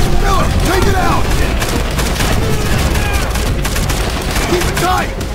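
Machine gun fire rattles in the Call of Duty 4 video game amid a loud battlefield din, continuous bursts mixed with other shots and booms throughout.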